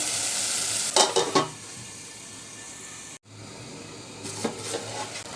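Pieces of peeled taro (kochu mukhi) fry and get stirred in a pan for koi fish curry, with a constant sizzle broken by bursts of spatula scraping and stirring, then a brief cut.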